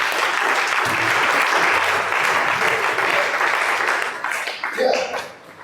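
A church congregation at an evening teaching service breaks into dense, sustained applause that fills the room, then thins out and tapers off toward the end.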